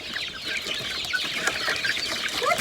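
Chicks and hens on a farm cluck and peep in a busy cluster, several chirpy calls overlapping close by.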